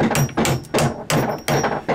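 A hammer strikes a bolt on an old sailboat in four sharp, evenly spaced blows, each a loud close metallic thwack with a brief ringing tail.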